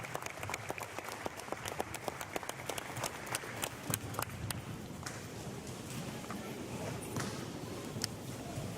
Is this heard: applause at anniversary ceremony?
yes